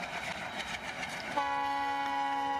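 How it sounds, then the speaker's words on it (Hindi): An ALCO diesel locomotive hauling a freight train in India: rumbling rail noise gives way to a loud, steady multi-tone horn blast that holds to the end, heard from moderately close. "ये एल्को है। अपनी आवाज़ से भी बता रहा है, अपने धुएं से भी बता रहा है।"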